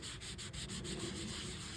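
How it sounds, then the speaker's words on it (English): Sandpaper rubs lightly and steadily over perforated leather being repaired, quick back-and-forth strokes, close up and fairly quiet, with no voices. "We're going to go back to the sandpaper and just lightly sand over this"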